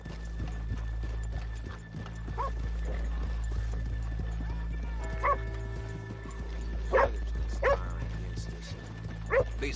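In the video game Red Dead Redemption 2, steady clip-clop of horse hooves under a constant background hum, with a few faint tonal calls and chirps scattered through.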